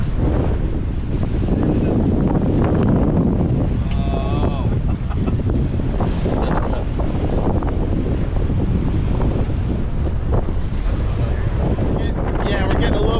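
Wind gusts over a sailboat under sail off Catalina Island in small craft advisory conditions, a loud, continuous roar of wind buffeting the microphone with waves rushing underneath and brief faint voices.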